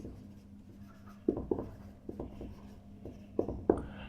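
A pen scratches across paper with a few short, sharp strokes and taps, close and quiet against a faint room hum, while a voice says a single word partway through.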